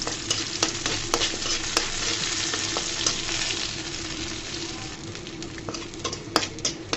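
Dried red chillies fry in mustard oil in a pan, a steady crackling sizzle running throughout with occasional sharp pops and stirring scrapes, close and fairly loud.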